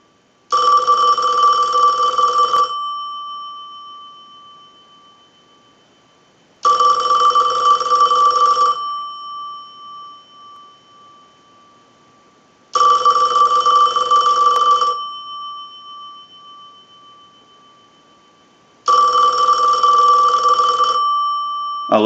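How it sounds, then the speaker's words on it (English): A Western Electric 500 telephone bell rings loudly in four long bursts, each about two seconds, separated by roughly four seconds of fading ring-down, with no talking. "use the analyzer and send a ring cycle like you were getting a call"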